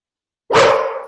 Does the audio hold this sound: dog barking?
yes